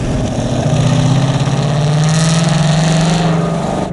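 A supercharged 2015 Ford Mustang GT V8 rumbling loudly through a Ford Racing aftermarket exhaust, a deep steady burble with a slight rise in pitch, close by and without talk.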